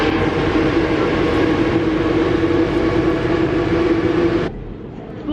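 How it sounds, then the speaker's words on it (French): Steady loud rumble and rattle of a metro train in motion in France, a continuous roar that drops abruptly near the end as the ride quiets. "on est dans le métro"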